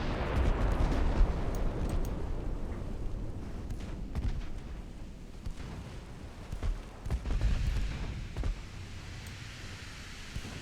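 13-inch naval guns fire in a warship video game, heard as loud, rumbling blasts with a long roaring decay, then a second swell of booming impacts later on.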